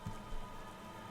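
Rain weather falls in the video game Pokemon Sword and Shield as a brief, faint, even hiss, with a soft low bump right at the start.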